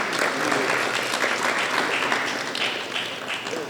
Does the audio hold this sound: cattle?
no